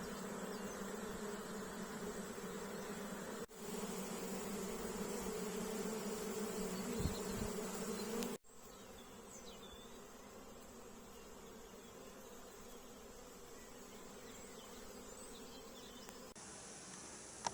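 Dense, continuous buzzing of a honeybee swarm gathered at a hive in spring, a steady droning hum with no voices.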